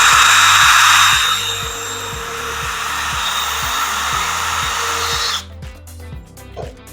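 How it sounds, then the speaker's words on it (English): A power drill whines loudly as it bores holes in a plastic garden tower, a steady high buzz that runs for several seconds before cutting off, followed by light handling clatter. "then we're going to drill about 3 inches apart"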